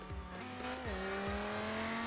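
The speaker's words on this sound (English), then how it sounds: "this car actually sounds good." A car engine in the Roblox game Driving Empire, on the old Wayfort map, revs with rising and falling pitch and a sustained drone, fairly steady and alone.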